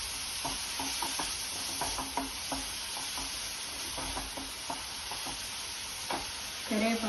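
Mustard seeds and tomato pieces fry in a pan with a soft, steady sizzle and scattered light scraping and crackling, faint and close, with a brief louder clatter near the end.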